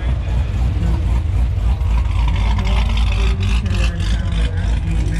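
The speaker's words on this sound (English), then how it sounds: "Oh, you gotta hear this car." A car engine rumbling at a Las Vegas Cars and Coffee show, a loud steady low roar close by with crowd noise in the background.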